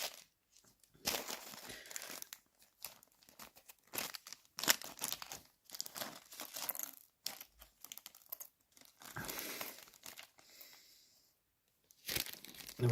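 A bag of small plastic model kit parts for a Sam's Trains double tanker is handled at a workbench, giving close, intermittent bursts of crinkling and rustling with short quiet gaps between.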